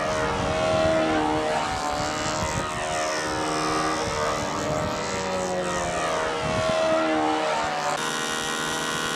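Model airplane on a practice flight in a U-control master event at the NATs, a buzzing propeller engine whine with shifting pitch as it circles, steady and fairly near, ending in a sharp change of tone.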